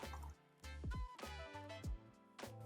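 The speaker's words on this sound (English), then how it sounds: "Once the water empties into the tray, your maintenance is complete" Flushing water drains into the tray of a Laurastar S Pure Xtra steam ironing system, a close, quiet run of drips and gurgling trickles in short bursts with no talk.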